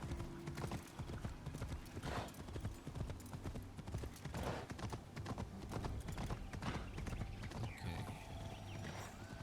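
Horse hooves clip-clop in a steady, even rhythm in Assassin's Creed Shadows, close and fairly loud over a low ambient bed, with a single brief spoken word.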